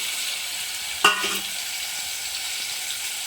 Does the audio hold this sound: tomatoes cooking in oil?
yes